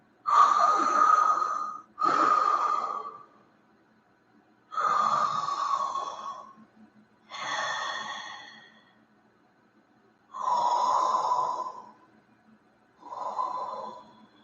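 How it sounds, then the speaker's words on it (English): Six slow, loud open-mouth breaths in the calming oceanic style, each a long hoarse whooshing exhale or inhale lasting about two seconds, separated by short silent pauses, close to the microphone. "Oceanic breath."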